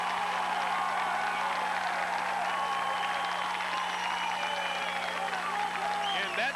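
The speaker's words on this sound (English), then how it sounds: "We know when the Catholic High Hilltoppers have scored because the crowd just goes nuts." A packed high school football crowd roars and applauds after a Catholic High Hilltoppers score in the 1990 JCA vs. Leo game, a sustained, dense wall of cheering with a voice carrying over it.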